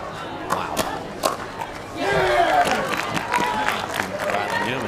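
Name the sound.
crowd cheering at a pickleball match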